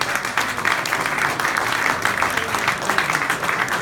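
A crowd applauds steadily, a dense wash of clapping that holds at a constant level from start to finish.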